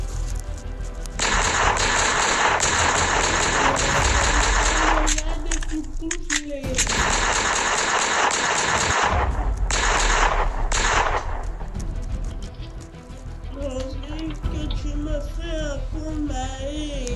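Gunshots ring out in the Roblox game Brookhaven RP during a zombie apocalypse roleplay, with dense rapid gunfire filling most of the stretch, loud and continuous, then thinning as voices talk over it.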